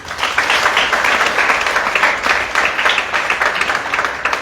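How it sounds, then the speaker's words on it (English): A crowd applauds continuously, a dense wash of clapping hands that holds steady for several seconds without pause. "Round of applause, please."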